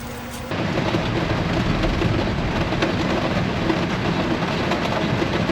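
A heavy thunderstorm over the Florida coast: a sudden loud burst opens into steady, dense roaring rain and rumbling thunder that holds at a constant level without pause.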